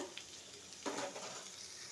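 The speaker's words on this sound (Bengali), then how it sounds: "পেঁপেটা একটু ভাজতে দিছি পেঁপেটা ভেজে নিতে হবে নাইলে গলে যাবে" Papaya frying in oil in a wok gives a steady, soft, close sizzle, with a brief stir of the pieces partway through.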